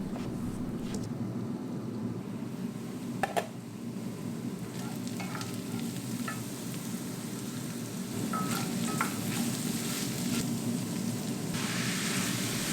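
Eggplant stuffing of sweet peppers and chopped tomato sizzling steadily in a pan, a continuous close frying hiss with scattered light clicks and scrapes, growing slightly louder toward the end.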